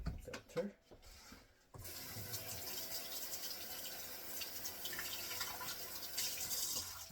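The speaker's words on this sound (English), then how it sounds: "We dispense some water" Water pouring steadily from a reverse-osmosis filter tap into a container, a continuous splashing stream that starts after a couple of seconds of brief handling noise and runs on unbroken to the end.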